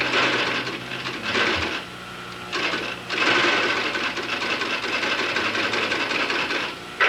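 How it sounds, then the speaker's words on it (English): A post-bed sewing machine stitches a leather shoe vamp in close, loud bursts of rapid mechanical chatter, pausing briefly twice before running on steadily, with no talking. "we'll sew this vamp on the post machine to give you an idea of difference"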